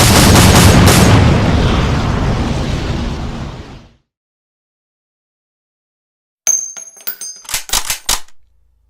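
A volley of rifle fire from a company of soldiers in a fantasy battle, heard as a loud, roaring blast that decays over about four seconds, followed after silence by a scatter of sharp, ringing cracks and pops.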